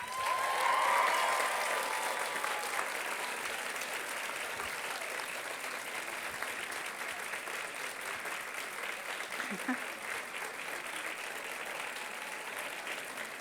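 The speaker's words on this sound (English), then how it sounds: "Clap, stamp your feet, cheer." A graduation audience at Nottingham breaks into sustained loud applause, steady and dense throughout, with foot stamping and cheering blended into the clapping.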